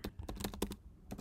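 Keys clack on a computer keyboard while text is entered into screenwriting software, a quick run of light, close taps with short pauses between bursts and no voices.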